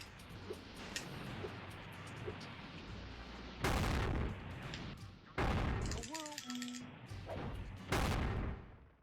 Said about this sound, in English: for some reason those rockets are way louder than like everything else in the game